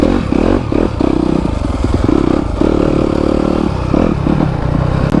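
A 2021 Yamaha YZ250FX dirt bike engine runs loud and close, a continuous rough throb with slight surges in pitch and faint clattering through the whole stretch.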